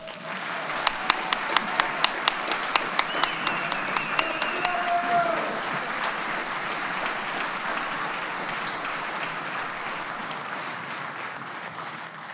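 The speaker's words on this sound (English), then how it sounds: "please give all of today's awardees a big round of applause" A large audience at an Army Reserve leadership award ceremony breaks into sustained applause: a few sharp, distinct claps open it, then dense, even clapping fills the hall and holds steadily at strong volume.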